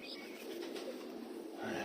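Soft, continuous cooing from pigeons close by, a low throaty murmur that rises slightly toward the end.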